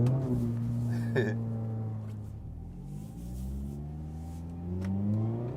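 Mazda Miata engine droning from inside the cabin while driving on the road, a moderate rumble whose pitch rises and falls with gentle throttle changes, with a brief sharp click early on.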